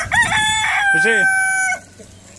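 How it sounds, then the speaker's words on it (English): At an animal rescue centre, a rooster crows loudly and nearby with clear rising and falling calls, mixed with clucking chickens, while a person speaks briefly over the start. "Look at all these lovely ducks and chickens."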